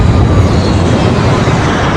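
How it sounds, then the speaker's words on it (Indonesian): An airliner comes in to land in a movie scene, a loud, continuous engine roar filling the whole span without a break. "Ketika pesawat sudah terlihat, mereka memberikan tutorial pendaratan."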